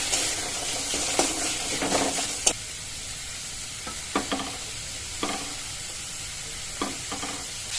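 Boneless chicken mince frying in reddened spices in a pan, a constant close sizzle broken by sharp spatula scrapes and stirring knocks, no voices.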